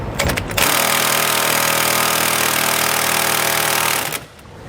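Impact wrench taking nuts off RV suspension bushings while fitting bronze bushings to a 2022 Grand Design Imagine travel trailer, one loud continuous burst of about three and a half seconds, close by.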